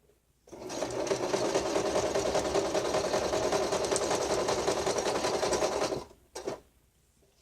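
A sewing machine runs in one steady, loud burst for about five and a half seconds as it stitches along the edges of altered book pages, then stops, followed by a brief short whir.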